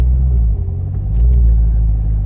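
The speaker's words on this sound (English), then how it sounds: "I started it and it's like, it still sounds like a fast car. Like, it's still loud, but not nearly as loud." A loud car engine runs steadily up close, a deep continuous rumble with a slight swell midway as it idles, with no talking over it.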